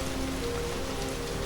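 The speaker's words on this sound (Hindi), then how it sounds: "बारिश थमने का नाम ही नहीं ले रही थी।" Steady, even rain falls continuously at moderate volume, a dense hiss of drops hitting a surface with no voices or other sounds.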